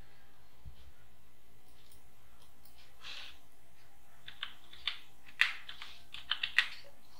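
Faint keystrokes on a computer keyboard, sparse at first, then a quicker run of distinct clicks in a quiet room, with no talking.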